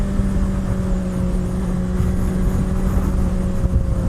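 A 2017 Honda CBR600RR sport bike engine drones steadily while riding, a constant loud hum with wind rush and no clear revving changes.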